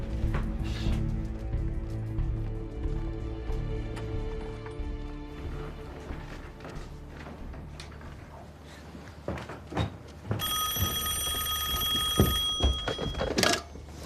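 A telephone rings in a war-film scene about Chinese volunteer soldiers fighting American troops. A bright, repeating electric ring cuts in near the end over a rumbling, clattering background with occasional thuds.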